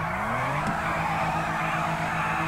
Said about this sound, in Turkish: Tekerleri ısıt.